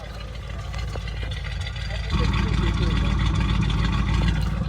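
A 1964 AMC Rambler Classic engine running with a steady, clean exhaust note, a loud low rumble that steps up slightly partway through, with a voice briefly speaking over it.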